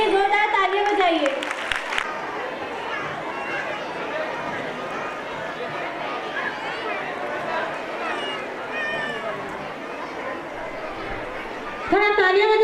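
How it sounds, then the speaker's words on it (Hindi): A crowd at a school annual gathering claps steadily for about ten seconds under constant chatter. A louder voice sounds near the start, and there is a brief stronger burst at the end. "इनके इस्तकबाल के लिए जोरदार तालियां बजाइए।"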